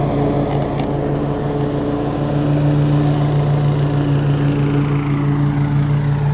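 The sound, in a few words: lawn mower engine running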